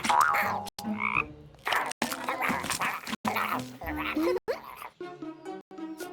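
A cartoon frog gives a string of loud, tonal, rhythmic croaks that frighten a group of skeletons. The bursts come close together with brief gaps between them.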